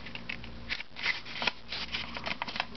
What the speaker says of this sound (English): turn it over backwards and go corner to corner and fold it